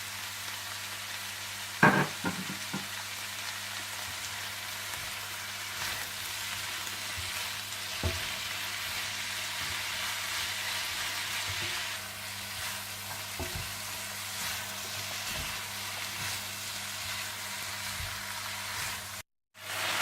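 Vegetables stir-frying in a pan for chicken chow mein, a steady close sizzle with occasional clinks and stirring scrapes, no voices.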